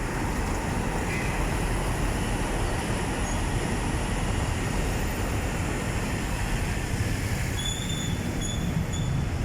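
An MRT train passes near SM Megamall, a continuous loud roar of rail wheels and carriages with high squealing tones near the end, heard alone without talk.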